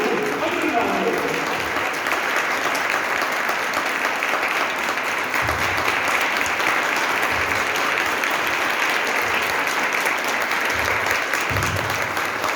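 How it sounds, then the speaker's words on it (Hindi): Sustained, dense applause fills a hall at a Republic Day celebration speech, steady and loud throughout, with occasional low thumps in the crowd noise. "अद्भुत अद्भुत तालियों की कसरत में कमी ना होने दो"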